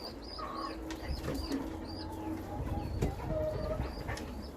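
Pigeons cooing softly indoors while a mother pigeon feeds her chick, with several low coos and faint chirps over a rumbling background hum.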